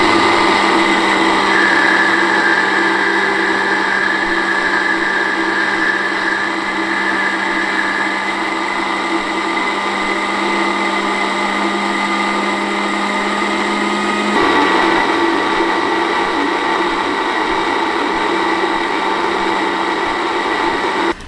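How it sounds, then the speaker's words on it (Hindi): A blender runs loud and nonstop for over twenty seconds while oil is added slowly to make mayonnaise, its steady motor whine shifting in tone partway through as the mixture thickens. "आयल को आपने एक साथ नहीं डालना, आहिस्ता आहिस्ता डालते रहना है और मशीन को लगातार चलाते रहना है।"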